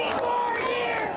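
Rally crowd of Texas supporters in Make America Texas and Team hats, voices chanting together in a dense, steady wall of sound, close and loud throughout.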